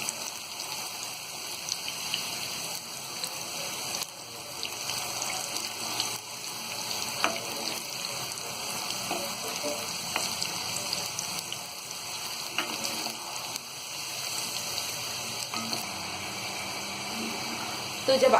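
Cut potato fries sizzle steadily in hot oil at close range, a dense continuous crackle and hiss with brief louder pops, no talking over it.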